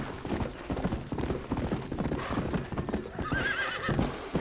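Horse hooves clip-clop steadily in the Western video game Red Dead Redemption, with a horse whinnying briefly near the end over busy game ambience.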